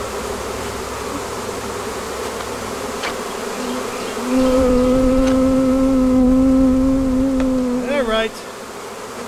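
A dense, droning buzz of a large honey bee swarm, loud and close, with steady pitched hums rising in intensity midway before easing; a brief spoken remark.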